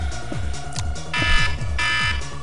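A timer alarm goes off in Minecraft: loud, pulsing electronic beeps in a fast steady rhythm over a repeating low thump, with no one talking.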